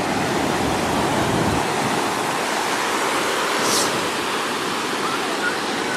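Steady broadband roar of ocean surf washing onto a surfing beach, continuous and fairly loud throughout, with wind mixed in and no clear talk.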